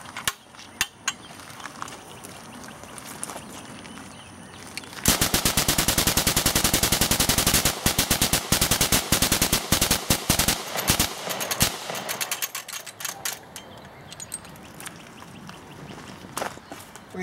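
A homemade Gatling-style gun fires ten rounds in a rapid, loud mechanical burst of sharp cracks. The shots come fast, then slow into separate bangs and ratcheting clatter as the barrel assembly cycles.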